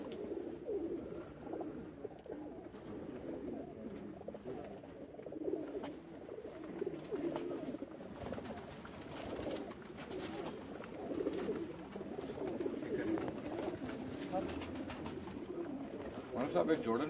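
A pair of Ferozpuri pigeons cooing on a rooftop, soft repeated coos and low throaty murmurs recurring through the whole stretch, fairly faint against light outdoor background noise.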